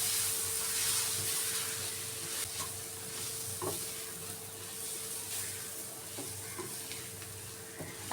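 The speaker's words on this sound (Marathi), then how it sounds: "शेंगदाण्याचा कूट 1 चमचा टाकूया आणि परतून घेऊया" Shepu (dill) greens sauté in a pan with coconut powder and peanut powder as they are stirred, giving a soft, steady hiss and sizzle with a few scraping stirs, close and low in level.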